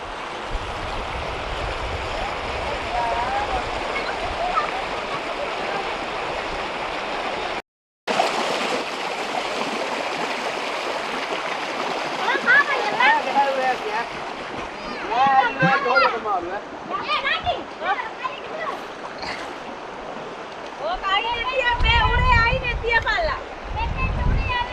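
Floodwater running across a submerged road beside a reservoir, a continuous rushing wash with splashing surges, while people talk over it throughout.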